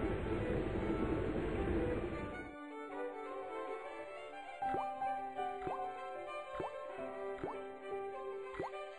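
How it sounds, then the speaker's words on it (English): A creaking faucet in the Broken Sword game sputters and then lets out rusty water: a dense gushing rush for about two seconds gives way to a run of clear plopping drips falling at a steady rhythm. "The faucet creaked, coughed, and spewed out a stream of rusty-colored water."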